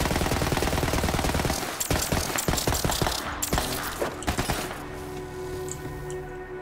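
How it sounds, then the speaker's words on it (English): A thrown Tediore weapon stuck to a surface as a turret in Borderlands 3, firing rapid automatic bursts that rattle loudly, then break into scattered shots and fade toward the end. "Thrown weapons stick to surfaces and become a turret shooting enemies until it's out of ammo?"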